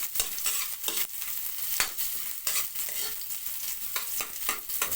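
Onions sizzle in a hot pan while a spoon stirs them, steady frying hiss broken by a quick run of scraping, clattering strokes, close and moderately loud.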